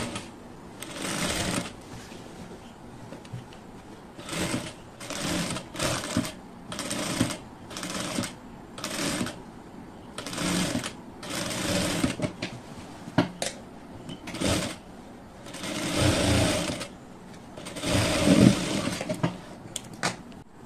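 A sewing machine stitches fabric in repeated short bursts of fast, rattling mechanical clatter, close by, separated by brief pauses and light handling sounds.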